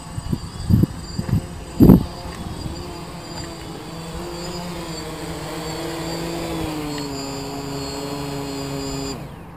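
Steady motor whine of a DJI Phantom drone hovering and coming down to land outdoors, holding near and fairly loud, with a few bumps and knocks early on before the rotors wind down at the end.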